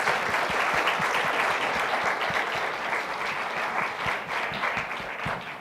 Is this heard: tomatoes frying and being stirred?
no